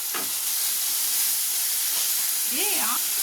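Tomatoes sauté in a hot pan for a white peas gravy, a loud constant close hiss of sizzling, with a brief voice rising over it near the end.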